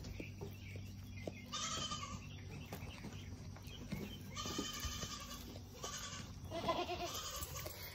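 A goat during kidding season gives three bleats across the span, each wavering and moderately close, against a faint farmyard background with some rustling.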